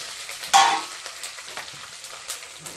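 Green peas drop into hot oil and ghee with cashews, green chillies and bay leaf, setting off a sudden loud hiss that settles into a quieter sizzle with occasional stirring scrapes, close and without speech.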